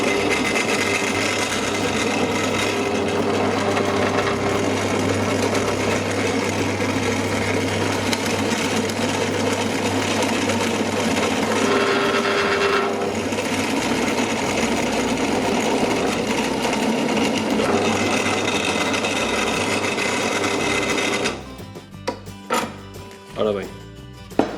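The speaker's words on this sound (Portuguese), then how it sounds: "Isto será a capacidade máxima da máquina para furar madeira." A Parkside PTBM 500 E5 bench pillar drill bores into wood, giving a loud, steady motor whine and cutting grind for about twenty seconds before it stops and a few clicks and handling sounds follow.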